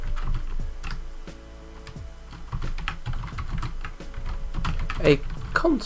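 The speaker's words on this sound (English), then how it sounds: "so you don't just hear my typing" Close clicking and clacking of typing on a computer keyboard in irregular bursts, with a faint steady hum beneath and brief voice sounds near the end.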